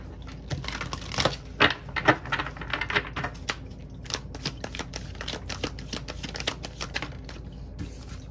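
A deck of tarot cards being shuffled, with rapid irregular riffling and snapping clicks running steadily throughout at close range, with no talking.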